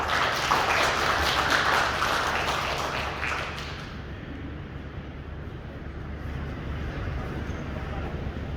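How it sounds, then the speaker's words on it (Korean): Steady applause from an audience at a regional decentralization talk concert, a dense wash of clapping that fades to lower room noise after a few seconds. "박수 부탁드립니다."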